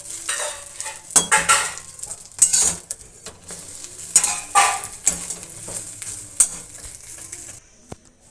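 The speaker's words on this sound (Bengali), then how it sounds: "এদিকে আর একটা ডিম ভাজা চলছে, দুটো ডিম ভাজা চলছে" Two eggs frying in a pan, with a soft sizzle under repeated metallic scrapes and clinks of a spatula against the pan, in uneven bursts and then a brief quiet at the end.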